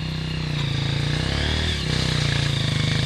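A motorcycle engine runs close by with a steady, buzzing drone, its pitch dipping briefly before rising again.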